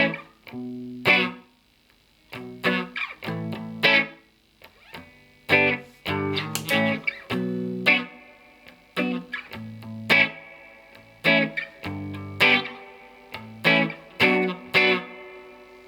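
Electric guitar through a Fender Tone Master Deluxe Reverb amp with reverb off, playing clean, bright chord strums and short phrases in bursts with brief pauses, loud and alone.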